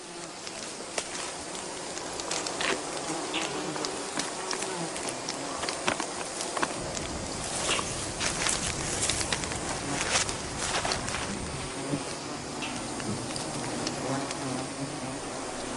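Killer bees swarm around a tree where smoke is being used on them, making a dense, continuous buzz that fills the whole clip, steady and close, with no talk.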